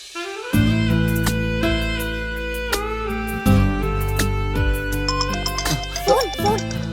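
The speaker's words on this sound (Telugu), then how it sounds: "Phone phone." A mobile phone ringtone plays as a tuneful electronic melody with sustained chords and bright high notes, fairly loud and continuous for several seconds in an indoor scene, with no voices over it.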